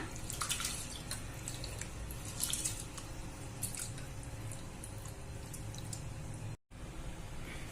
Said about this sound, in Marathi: आपण हे आता हे तांदूळ धुवून घेऊ